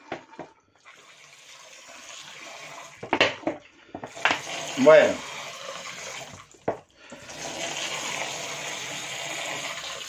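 Water pours into a vinegar marinade for homemade pork loin in lard, heard as splashy gushes broken by clinks and handling noises, then a longer steady pour at the end, with a brief spoken word.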